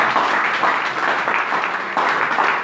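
Church congregation applauding and cheering loudly during a French-language worship service, a dense, continuous wash of clapping that swells in waves with no break.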